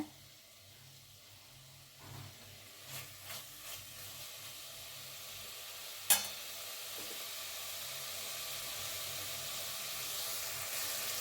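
Spice powder fries quietly in a pan for chicken biryani, giving a soft, steady sizzle with a few faint stirring clinks and one sharp tap partway through.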